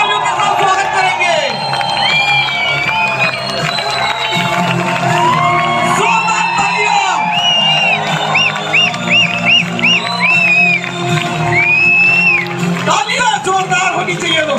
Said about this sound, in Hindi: जोरदार तालियों के साथ स्वागत करेंगे।